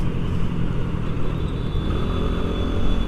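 A steady, close engine drone from a five-year-old Honda Beat FI scooter running on Castrol Activ Matic 20W40 oil and ridden long distances daily, humming evenly at cruising speed with no voices.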